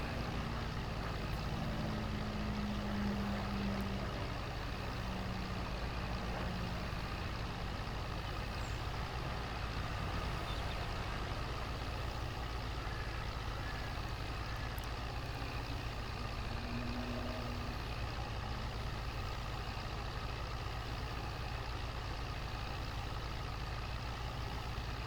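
A Zetor tractor engine idling in Farming Simulator 22, a steady low diesel drone with a faint rhythmic chug that runs unchanged for the whole stretch, with no voices over it.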